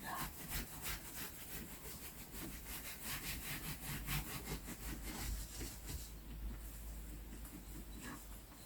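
Hands rub wet felt steadily, a close, continuous rhythmic scrubbing with repeated strokes and no talk.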